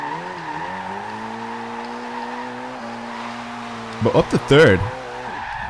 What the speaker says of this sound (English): It's just weird to see a Focus just ripping it sideways.